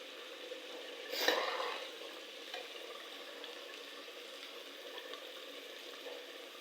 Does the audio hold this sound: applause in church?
no